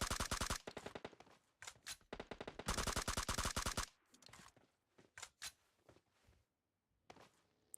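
Gunfire in a PUBG Mobile fight: rapid automatic bursts crackle in dense runs, then scattered single shots and a few footsteps or scrapes fade to quieter, sparser fire; no talking.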